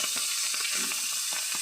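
Leafy greens hitting hot oil in a pan alongside fried egg, a loud continuous hiss and sizzle with faint stirring clicks.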